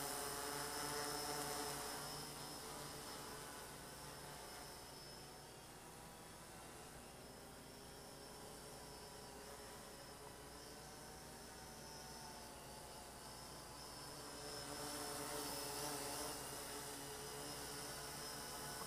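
A 3D-printed drone built as a Walkera Vitus and Mavic Pro mix hovers nearby, giving a steady, dense whirring buzz with a constant propeller whine that swells slightly louder near the start and end.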